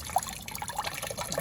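Water trickles and drips steadily out of the sill channel of a Sprinter campervan, where dirt had blocked the flow along a lip. The liquid sounds close and continuous, with small splashy patters and no voices.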